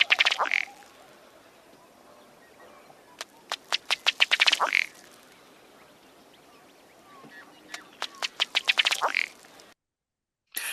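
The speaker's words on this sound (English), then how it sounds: "So here is the sound of that bubbling display." A male ruddy duck gives its bubbling courtship display call: two bursts of rapid accelerating ticking taps ending in a louder gurgling note, close and clear against quiet marsh background.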